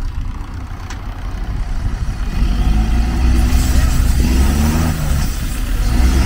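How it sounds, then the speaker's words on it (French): Tractor engine running as the tractor moves forward, a steady low rumble that grows louder midway and holds near and continuous, with faint voices in the background. "Allez, le tracteur il avance."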